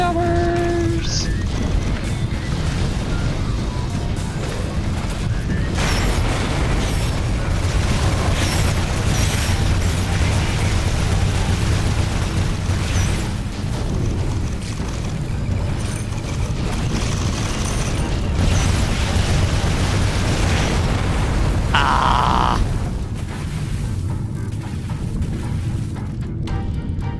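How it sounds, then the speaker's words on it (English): Artillery tower explosions in the video game The Riftbreaker, a continuous barrage of booming blasts and crashes over dense battle noise, with a voice talking over it. "Can you go away with your artillery towers?"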